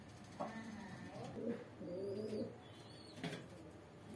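Desi kaldum pigeons coo in soft, low, rolling calls repeated several times at close range, with faint chirps and rustles in the background.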